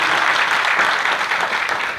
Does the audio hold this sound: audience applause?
yes